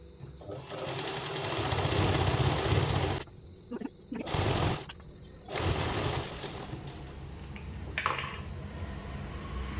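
Sewing machine stitching the seams of a 12-panel plazo, running in steady bursts with brief pauses between runs, close and fairly loud throughout.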